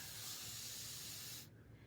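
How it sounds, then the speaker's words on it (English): A spray bottle mists water onto a board eraser, a close, loud, steady hiss that runs for over a second and then cuts off abruptly. "spray that with water, and then we are going to spray our board eraser"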